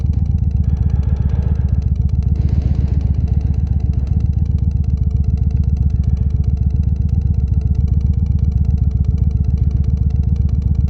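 A motorcycle engine runs steadily throughout a ride, a loud, close, continuous low drone with a constant rhythmic pulse and no talking.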